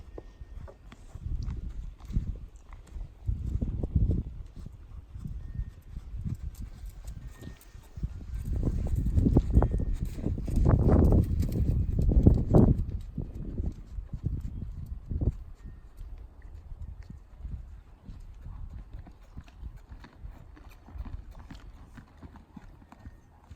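Horse hooves clip-clop at a steady walking pace, close by, with the steps growing louder in the middle before easing off.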